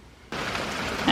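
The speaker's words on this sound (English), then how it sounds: "Well, it's raining hard enough out here." Rain begins falling outdoors, a sudden dense, even hiss of drops on surfaces that starts abruptly and continues steadily, fairly close and moderately loud.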